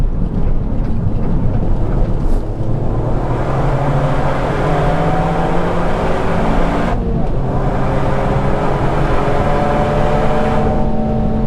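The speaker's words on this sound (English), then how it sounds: "We'll just take a minute to enjoy the sound of the car and a beautiful empty track" Toyota GR Yaris driving the empty Nürburgring track up toward Hohe Acht, its exhaust giving a loud, steady engine drone with rising and falling pitch as it accelerates and shifts, heard close and continuously from inside the car.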